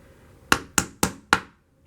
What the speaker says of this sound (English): The ones that I cannot pull out, I will actually hammer back in.